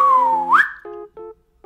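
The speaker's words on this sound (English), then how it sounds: "we're gonna try to whistle and get smaller" A whistled tone slides slowly down then jumps up, followed by several short whistled notes with gaps between them, close and clear.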